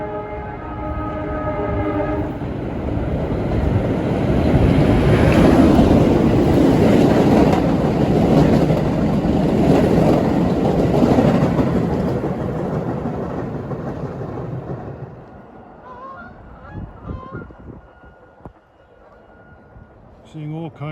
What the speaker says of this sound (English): we get to see the next to the last express train rolling through Grassmere